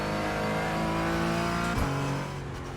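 A Porsche 718 Cayman GT4 engine in the iRacing simulator holds a steady, loud rev under throttle, then drops sharply as if shifting, with the note settling lower before fading slightly. No one speaks.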